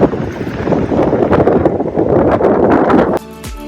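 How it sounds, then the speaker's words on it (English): Strong wind blowing outdoors at a hill resort in Solan, a loud continuous roar and buffeting against the microphone that drops off sharply near the end. "Just hear the sound of the wind once."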